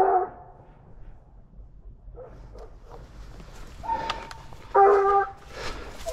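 Hunting dogs bark in a corn field during a wild boar hunt: scattered, fairly distant barks and yips over quiet ambience, with one louder burst near the end.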